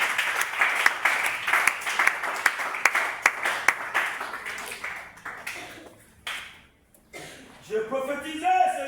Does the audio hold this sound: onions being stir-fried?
no